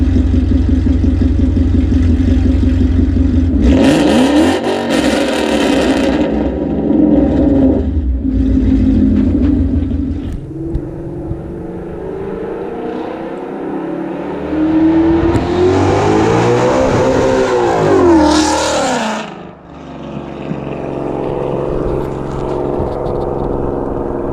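A very loud S550 Ford Mustang exhaust, close by: a deep idling rumble broken by repeated revs that rise sharply and fall away, with a long climbing rev near the end before it settles back to idle.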